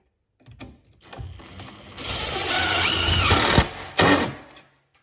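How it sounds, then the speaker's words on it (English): A power drill whirs in several short bursts, then a longer sustained run as it drives hidden-fastener screws into the side of a deck board, close and loud. "you go hit this one with the drill"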